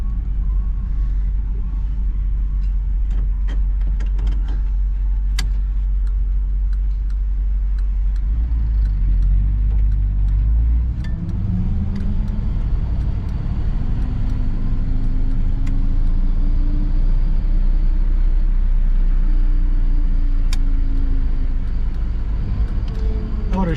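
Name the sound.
1959 Chevrolet Bel Air 348 engine winding out while driving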